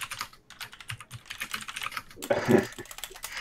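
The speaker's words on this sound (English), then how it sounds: "lots of typing going on in the audio right now" Rapid, irregular clicking of keys being typed on a computer keyboard, close by, with a brief louder burst of keystrokes near the end.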